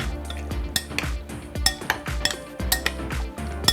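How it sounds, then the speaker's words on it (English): A utensil stirs roasted beets in vinaigrette inside a bowl, sharp metallic clinks and scrapes recurring in a quick irregular rhythm, close and fairly loud. "I'm gonna go ahead and give this a nice stir."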